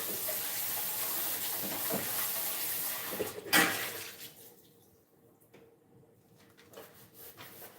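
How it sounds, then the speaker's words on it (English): Tap water runs steadily over a loaf pan being rinsed in a kitchen sink, a close, continuous splashing that stops abruptly midway, followed by quieter handling clatter. "Just gonna give it a quick rinse and butter it."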